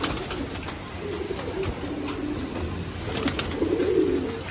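Pigeons of an old Pakistani golden breed coo in a loft, repeated low throaty coos overlapping under bird rustles and faint chirps, fairly close and continuous.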